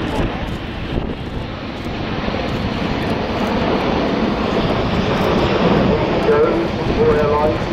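An Airbus A380 airliner makes a slow fly-by at the Farnborough Air Show in 2010, its jet engines producing a broad, building roar that swells over several seconds while an announcer talks over it.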